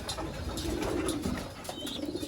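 Racing pigeons cooing softly in a loft, a low steady murmur of several birds with faint rustling and occasional wing flutters, no voices.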